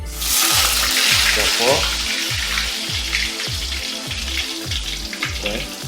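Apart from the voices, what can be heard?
tofu frying in a pan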